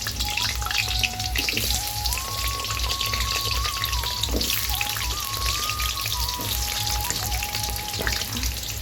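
Potatoes frying in hot oil, a steady dense crackling sizzle that runs continuously throughout with no talk over it.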